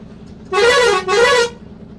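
Two loud car horn blasts in quick succession, each about half a second long, close by with a short gap between them, amid a traffic jam with trucks on the road.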